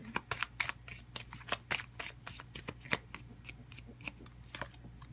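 Tarot cards drawn and handled up close, with a rapid run of crisp flicks and snaps from the deck in an irregular rhythm and no talking.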